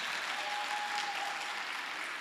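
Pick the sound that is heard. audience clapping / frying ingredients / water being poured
audience clapping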